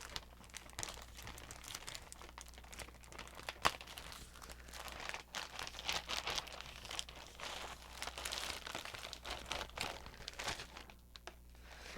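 Craft paper being cut and handled up close: crinkling, rustling and crisp snips and taps in an irregular stream, quiet and close with no talk.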